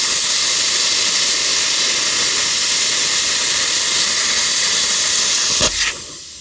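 A Simder CUT 50 plasma cutter at 35 amps slices through 1/8 inch steel plate with a loud, steady hiss. The rush of noise holds for about six seconds, then cuts off abruptly.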